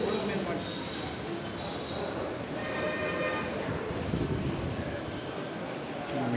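A Chennai local train arrives, rumbling steadily nearby with a low, continuous roar, while people talk in the background.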